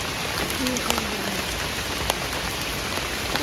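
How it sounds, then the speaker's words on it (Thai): Steady rain falls across the whole stretch at a field where sweet potatoes are being dug, a dense even hiss with scattered drops ticking close by. "มื้อนี้คือฝนตก"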